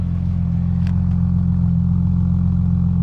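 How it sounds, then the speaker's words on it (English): A car idles steadily during an outdoor walk-around, its exhaust producing a loud, continuous low rumble that stays even throughout, with a couple of faint clicks on top and no speech. "Can you hear the exhaust?"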